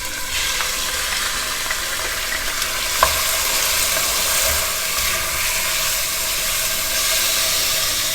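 Chopped chicken fries in olive oil in a hot pan with a steady, loud sizzle and hiss. Occasional small pops and stirring sounds come through, with no talking.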